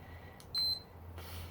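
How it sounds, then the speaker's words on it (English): A single short, high electronic beep from a stopwatch, faint against quiet room background with a soft tap before it. "You'll hear a beep periodically."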